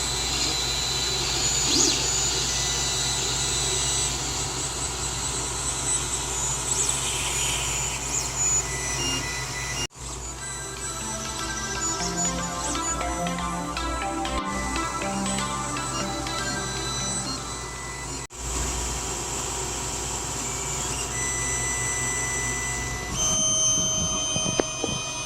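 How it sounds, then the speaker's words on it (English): A printer runs continuously in a cluttered workshop, a steady mechanical whir with rhythmic carriage passes and brief clicks, loud and close throughout with no talking. "let's take it to the printer."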